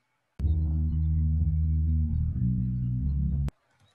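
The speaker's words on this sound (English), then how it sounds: "The multi-channel unit bass estimate sounds like this." A bass part isolated from a music mix by a multi-channel U-Net source separator plays as a loud, steady low tone for about three seconds, with a slight change partway through, then cuts off sharply into near silence.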